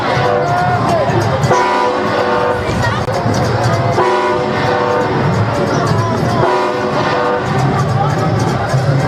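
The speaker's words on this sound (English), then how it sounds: "And you hear the train whistle." A train whistle sounds repeatedly in long tonal blasts over a noisy crowd with voices at a high school football game, loud and fairly close.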